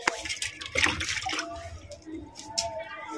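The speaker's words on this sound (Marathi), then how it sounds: "तर आता आपण याला थोडंसं पाणी देऊन घेऊया।" Water is poured onto a potted betel leaf plant just after fertilising, a short splashing gush that tapers into softer trickling and dripping, close by, with no talking.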